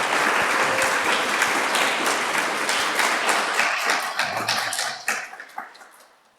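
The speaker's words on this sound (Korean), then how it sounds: "잠깐 일어날 때 우리 환송의 박수" A Korean church congregation in Mannheim gives farewell applause during Sunday worship. The dense clapping fills the room, then thins to a few scattered claps as it fades.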